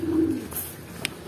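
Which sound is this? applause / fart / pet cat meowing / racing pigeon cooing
racing pigeon cooing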